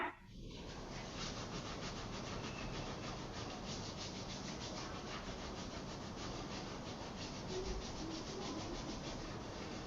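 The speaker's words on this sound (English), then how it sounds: "Just rub that energy onto the forearm here." Hands rubbing steadily along the forearm in a hatha yoga class, a continuous close, dry friction sound lasting throughout without pauses, with no voice over it.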